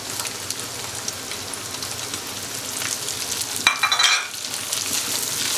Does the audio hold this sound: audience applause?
no